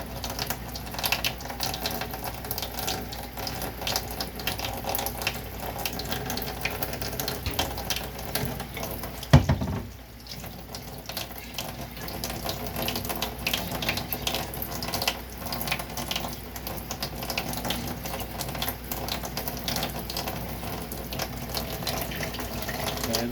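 Water runs steadily from a tap into a sink while something is washed, a continuous close splashing with a brief clunk and pause partway through before the flow resumes.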